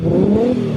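A Nissan Skyline R34 engine revs briefly nearby, a loud low rumble with a rising, steady drone.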